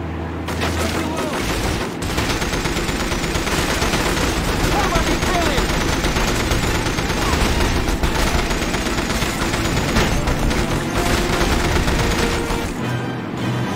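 Sustained automatic gunfire aimed at pursuing boats in the James Bond 007: From Russia With Love video game, loud rapid bursts rattling almost continuously for over ten seconds with booming impacts mixed in.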